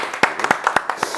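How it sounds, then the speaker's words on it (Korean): Sharp hand claps ring out at a steady pace, each one close and crisp, about eight claps in just over a second. A small group seems to be applauding at a golf-related gathering, with a faint murmur of talk underneath. "그럼 시원하게 박수 한번 주세요."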